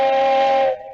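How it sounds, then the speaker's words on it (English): A steam locomotive lets out a loud, sustained whistle with a steady tone, held close and strong for most of a second before cutting off abruptly. "he heard a whistle"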